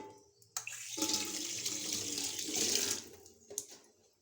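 Kitchen tap running while dishes are washed at the sink during cleanup after cooking prawn masala curry; a short splash, then a few seconds of steady running water, cut off, followed by a brief final splash, faint and close.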